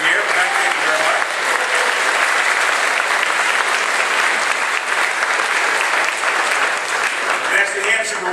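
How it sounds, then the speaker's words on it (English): A crowd applauds loudly and steadily in Manchester, New Hampshire, for Manchester Community College: a dense, sustained roar of clapping that fills the whole stretch, with voices mixed in. "would you please give a nice big round of applause for the Manchester Community College for helping us have this event here."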